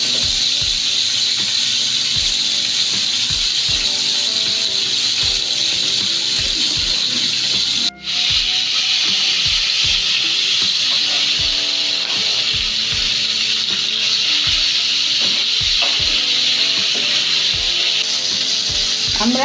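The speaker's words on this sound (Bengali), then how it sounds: "মাছটা আমরা এখন ভেজে নিব হালকা।" Shol fish frying lightly in oil in a pan gives a loud, steady sizzling hiss that runs throughout. It breaks off for a moment partway through, and soft low thumps sound underneath.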